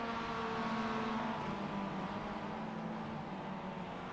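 A BMW M2 race car on a track, its engine a steady, sustained drone with a harmonic hum held throughout, moderately loud and without any talk.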